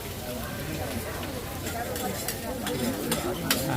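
Sizzling and scraping of rice being stir-fried in a giant pan at a street food stall, steady and close, with voices talking over it.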